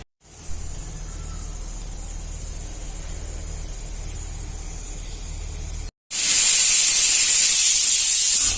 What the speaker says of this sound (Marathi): गॅस बंद करते चार शिट्ट्या झाल्या